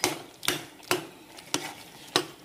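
Kootukari curry, a Kannur-style Kerala sadya dish, stirred in a pan in five evenly spaced scraping strokes, close and fairly quiet, with no talking.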